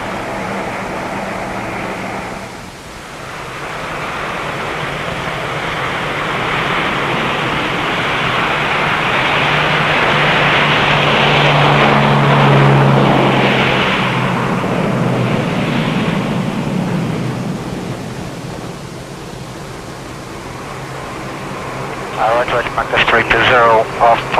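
Airplane cockpit in flight toward McMurdo in Antarctica, a broad steady engine and air roar that swells in the middle and then eases, with a sharp electronic tone near the end.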